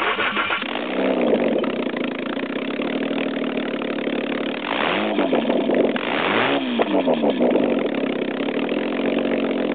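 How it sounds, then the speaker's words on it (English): A Jaguar XJ6 engine cold-starts with no exhaust manifolds, cranking and roaring to life, running loud and raw, rising and falling as it revs twice before settling into a rough idle. "So I'm going to try and cold start it with no exhaust whatsoever."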